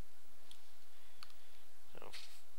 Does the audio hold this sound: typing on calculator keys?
yes